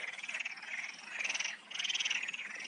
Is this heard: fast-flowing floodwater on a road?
no